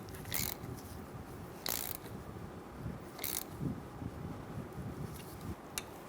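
Ratchet wrench clicking in short bursts while snugging a brake hose union bolt into the front caliper of a 2014-2018 Chevrolet Silverado 1500, close and fairly quiet, with pauses between strokes.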